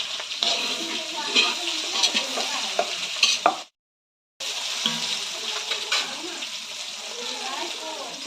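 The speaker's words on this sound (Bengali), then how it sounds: "সব একসাথে দিয়ে হালকা একটু ভেজে জল দিয়ে দেবো" Soybean chunks sizzle and crackle steadily in a hot pan with some stirring, broken by a brief silent gap, with faint voices in the background.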